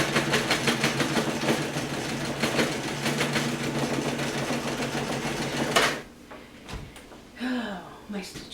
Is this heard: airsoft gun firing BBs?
no